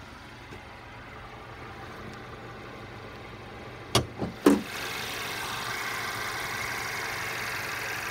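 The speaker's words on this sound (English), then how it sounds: "turbocharged inline four-cylinder" The turbocharged inline four-cylinder engine of a 2015 Mercedes C300 idles quietly under an open hood, a faint, steady hum broken by a few short clicks and knocks around the midpoint.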